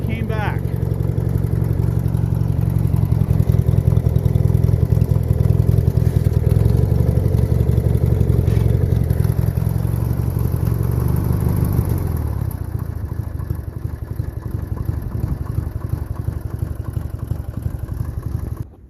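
A Craftsman LTX1000 lawn tractor engine runs after a rebuild, a steady loud mechanical drone with clattering that drops lower in pitch around twelve seconds as the throttle and choke are worked, then cuts out at the end.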